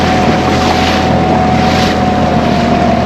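A motorboat pounds through choppy waves on open water, its engine drone loud and steady with heavy wind buffeting the microphone and continuous hull and spray noise throughout.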